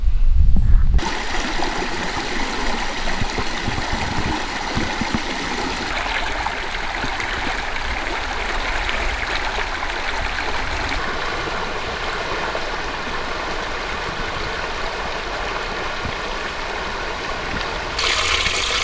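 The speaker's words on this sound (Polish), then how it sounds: "Jest też naturalne źródło wody z takiego wysokiego zbocza nad rzeką startuje." Natural spring water pours from a high slope above a river, a steady close rushing and splashing that holds constant throughout with no voices.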